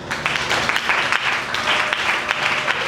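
Church congregation clapping together during a French sermon, dense steady applause with scattered sharper claps, close and lively for a few seconds, no talk over it.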